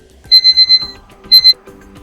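Alarm ringtone previewed on a Tecno Pova Neo 2 smartphone: a bright electronic beeping tone in two quick bursts, four beeps and then two, loud and close, with no voices.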